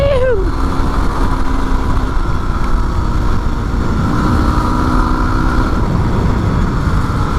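A Yamaha WR250R motorcycle engine drones steadily and loudly as the bike is ridden, with a brief rising rev at the start and constant wind noise throughout.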